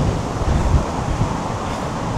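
Strong wind in Brisbane buffets the microphone in a dense, roaring rush, with heavier low gusts surging through the whole stretch.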